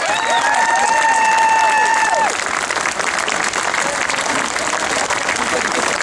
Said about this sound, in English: let's give a round of applause to the firefighters for doing this for us